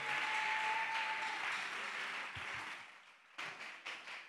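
A church congregation applauding together after a testimony: dense, sustained clapping that gradually thins out and fades, then a few scattered claps at the end, with no speech.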